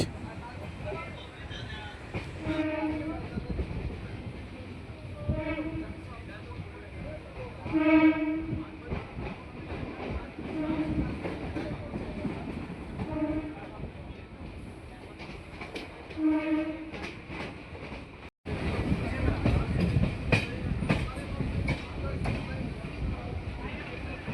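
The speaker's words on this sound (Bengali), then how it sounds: "আর বন্ধুরা আমাদের ট্রেন এসে পৌঁছালো" A suburban train arrives at Tala station on the Majerhat to Barasat line, rumbling and clattering over the rails with repeated horn blasts, while a voice speaks over the noise.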